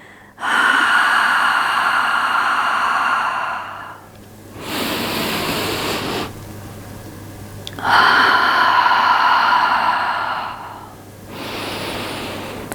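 Deep, loud breaths during a Pilates stretching session, alternating long noisy inhales and exhales in a slow rhythm, close and with no talk.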